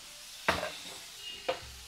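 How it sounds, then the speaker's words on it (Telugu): Chopped pieces being stirred in a hot pan, with two distinct scraping stirs about a second apart over a faint, steady background of frying. "దీన్ని బాగా ఒకసారి వేపుకుందాం దోరగా."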